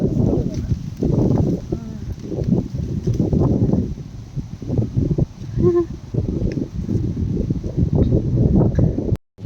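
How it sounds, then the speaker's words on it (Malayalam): Strong gusty wind sweeping through trees on an outdoor walk in the UK, a loud, continuous rumble that buffets the microphone in surges for the whole stretch. "നിങ്ങൾക്ക് സൗണ്ട് കേട്ടോ ശക്തിയായിട്ടാണ് കാറ്റ് വീശുന്നത്"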